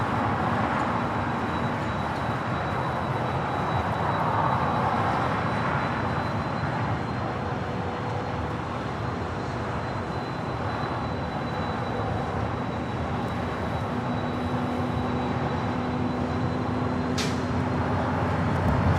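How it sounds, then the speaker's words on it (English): A Fiji Airways Airbus A350-900 jet arriving at LAX roars steadily and loudly, its broad engine rumble and whine holding throughout, with no talk. "this is Fiji Airways coming in from Nandi, flight 810, the A350-900"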